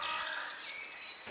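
A blue tit foraging in a valley gives a short, sharp burst of high, bright calls, about half a dozen quick repeated notes, loud and close with nothing else around.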